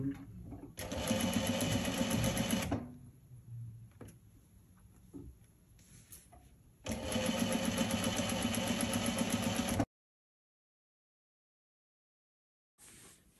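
A sewing machine stitches seams on a child's sweatshirt in two long, steady, whirring runs separated by a quieter pause with light handling clicks, then cuts off abruptly before a brief restart at the end.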